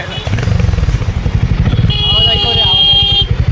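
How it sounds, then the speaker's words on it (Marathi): A motorcycle engine rumbles close by while riding, with a rapid low pulsing throb under a person talking over it. "हा गाडीचा आवाज ऐकतो आवाज ऐकतो रे"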